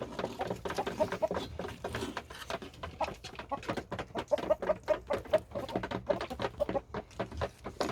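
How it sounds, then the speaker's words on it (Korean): A young rooster clucks and squawks repeatedly in a golden rooster pen as it is being caught with a chicken hook, with irregular bursts and scuffling patter, close and fairly loud. "수탉을 조용히 제가 잡는 방법에 대해서 다시 한번 시연을 하도록 하겠습니다"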